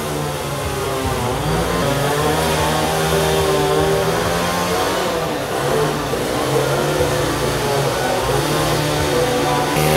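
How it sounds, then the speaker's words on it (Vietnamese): A steady, loud power saw drones continuously, its buzzing whine rising and falling slightly as it cuts and shapes the wooden head of a racing boat. "Thì đang thợ đang cưa đập đang gọt đầu chuẩn bị"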